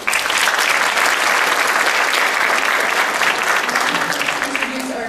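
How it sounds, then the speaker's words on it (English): Audience applause after a scientific lecture on tropical marine biodiversity: a sustained, even wash of clapping from a seated crowd, loud and unbroken for several seconds before fading slightly. "Can you give a round of applause for him?"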